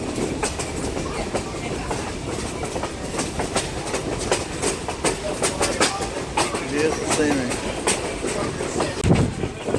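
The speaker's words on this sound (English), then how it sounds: "you're going to be able to take a picture of the whole train" A train in Bryson City, North Carolina rolls along the rails with steady rumbling and rhythmic clickety-clack, close and continuous, while a person speaks briefly over it.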